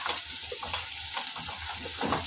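Turmeric and curry leaves frying in a hot pan, giving a continuous bright sizzle and crackle with small spattering pops, close and fairly quiet.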